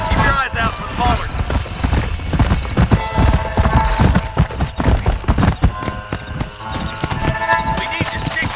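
Horses clip-clop along at a steady gait in Red Dead Redemption, hooves thudding close and continuous beneath a voice, with an occasional whinny.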